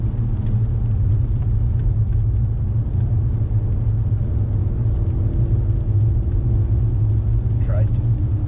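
A car accelerating on a race track during an Audi Quattrofest track day, heard from inside the cabin as a loud, steady engine drone and road rumble beneath an instructor coaching the driver.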